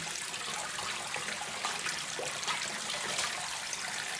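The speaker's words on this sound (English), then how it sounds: "I'm gonna drain it very well to set it in a colander." Water runs and trickles steadily from a colander of drained, soaked cabbage in a kitchen while kimchi is made. The sound is soft and continuous, with no talking.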